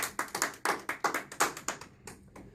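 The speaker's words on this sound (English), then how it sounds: "Applause is appropriate." Sparse clapping from a small group after a military swearing-in ceremony at a MEPS station, Camp Dodge, Iowa, with distinct separate claps in an uneven rhythm that trail off toward the end.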